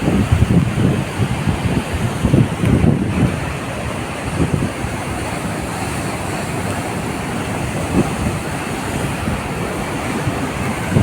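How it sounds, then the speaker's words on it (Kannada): Heavy water rushes over Vani Vilas dam reservoir in Hiriyur in a constant roar, loud and steady, with a few stronger surges near the start and no voices. "ನೋಡಿ ನೀರಿನ ಸೌಂಡ್ ನೋಡಿ"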